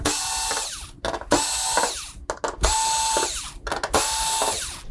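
A power screwdriver backs screws out of a VIZIO D39HN-E0 TV housing in four close, loud bursts of whirring, each ending abruptly with brief clicks and pauses between.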